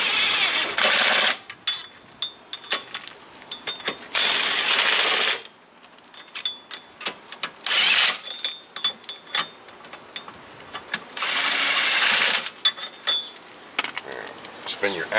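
Power tool spinning in bolts during rear wheel bearing replacement on a 2011 Toyota Highlander AWD, sounding in short loud whirring bursts separated by clicks, ticks and pauses.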